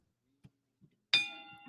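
A single bell ding rings out clearly after a few faint soft taps, its bright tone sustaining and slowly fading, close and alone with no talk.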